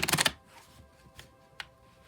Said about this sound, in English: I'll shuffle till the deck feels ready, then we'll cut and deal right off the top